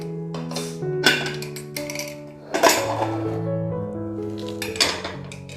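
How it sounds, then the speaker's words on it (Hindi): Metal pots and utensils clink and ring close by as a pressure cooker of potato dum biryani is opened in a kitchen. Several sharp knocks leave sustained metallic tones hanging between them, with no talking. "अब हम अपने कुकर को खोल के देख लेते हैं"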